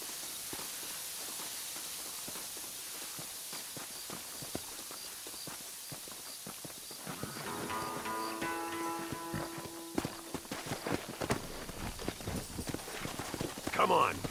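Horse hooves clip-clopping in the Red Dead Redemption video game, faint steady steps at first that grow louder and busier, joined midway by game music, with someone talking over it.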